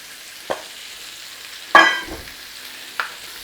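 Vegetables fry in a little oil for a Mongolian chicken stir fry: a faint, low sizzle runs underneath while three separate sharp clanks of a utensil against the pan ring out, the middle one loudest.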